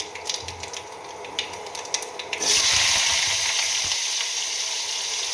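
After some light clicking, a loud hiss erupts as chopped green chillies hit hot tempering oil with five-spice, settling into a steady close sizzle.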